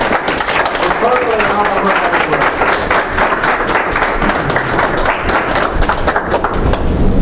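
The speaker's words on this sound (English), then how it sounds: "Give her a round of applause." Audience applause after a talk by Karlie Wright, loud sustained clapping from a crowd that fills the whole stretch at an even level, with voices mixed in.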